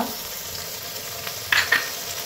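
Spice pastes, garlic and ginger among them, fry for a home-style chicken curry, a steady close sizzle running throughout with a couple of sharper stir scrapes near the end.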